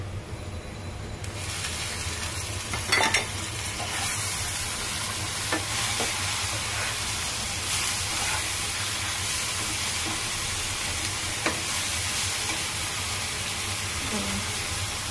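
Garlic paste frying in a hot pan sizzles with a loud, continuous hiss, broken by occasional clicks and scrapes of stirring.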